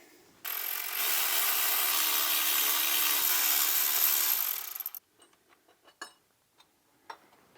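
A ratchet spins rapidly and continuously for about four seconds, removing the timing tool from a BMW E90 M3 S65 V8 engine, followed by scattered clicks and light metallic taps of parts being handled.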